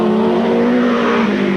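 Vintage speedway cars with Offenhauser engines race in a 1985 vintage speed car display, a loud sustained engine drone holding a steady pitch close by, with no voices.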